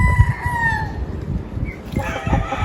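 A rooster crows on a farm in Tagaytay, one long drawn-out call rising then fading, heard close and clear over low outdoor rumble and faint clucking.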